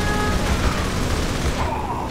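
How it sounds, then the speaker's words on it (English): A Gatling cannon fires in the video game Command & Conquer Generals Shockwave, a continuous, dense roar of rapid shots with rumbling booms, loud and unbroken for the whole stretch. "Helix, prepare the Gatling"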